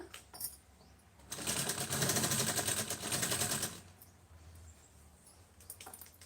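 A sewing machine stitching a fall onto the edge of a saree runs in one fast, rattling burst of a couple of seconds, with quieter handling clicks before and after.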